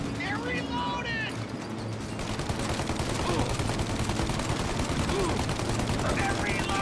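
Gunfire from a shootout in the video game Mafia: Definitive Edition, with dense, continuous bursts of shots layered over a busy, loud battle mix while voices shout over the shooting.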